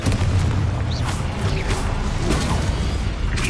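Casting the Confringo spell in Hogwarts Legacy sets off a loud, dense blast: a rumbling boom with crackling debris and whooshes that fills the whole burst without a break.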